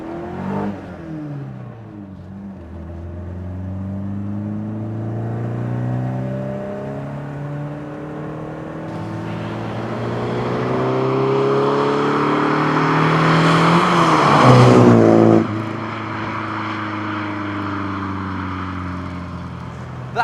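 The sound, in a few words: BMW 2002tii classic car driving and accelerating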